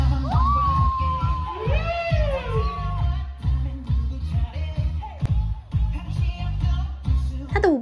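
Audience at a street dance competition in a department store screams and cheers at a breakdancer's one-handed handstand finish, loud and sustained, with high whoops and shrieks over dense crowd noise throughout.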